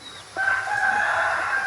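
A rooster crows once, loud and close, a drawn-out call that starts abruptly and holds to the end, with faint farmyard sounds beneath.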